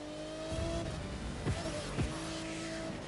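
A racing car in The Crew 2 accelerates on nitrous boost, a steady engine drone with rising tonal whine, punctuated by two sharp thumps or impacts near the middle, fairly loud and close.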